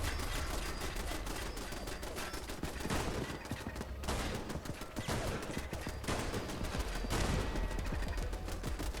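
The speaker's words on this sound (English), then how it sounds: "I'm intentionally shooting slowly because I just have terrible aim sometimes, frankly" Pistol fire in Fallout London, a run of sharp shots spaced out at a slow, deliberate pace over a busy backdrop of other combat noise, fairly loud.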